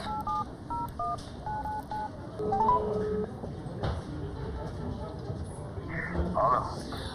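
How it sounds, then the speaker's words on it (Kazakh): A short series of electronic keypad tones beeping in quick succession, then a ringing tone over faint background murmur and room noise. "алалық жергілікті полиция қызметінің бастығы Бақытжан Малыбаевтың нөмірін теріп көрелік."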